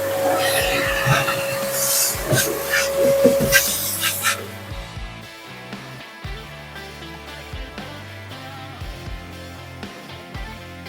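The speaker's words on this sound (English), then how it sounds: "we're going to use the shop vac, suck out all the dust and grease particulate" Shop vac suctioning grease and dust particulate from inside a Pit Boss smoker: a steady, loud hissing rush with a whining motor tone for about four seconds, then it cuts off and a voice talks over quieter background.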